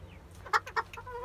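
Chickens on a farm, roosters and hens together, give a couple of short, fairly loud clucks close by, with quieter bird sounds and faint background noise around them.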